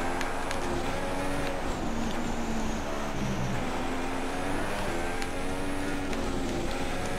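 Formula 1 car engine in the F1 2016 racing game, a steady loud high-revving drone with shifting pitch as the car comes off the throttle through a bend at the German track, continuous throughout with no talk.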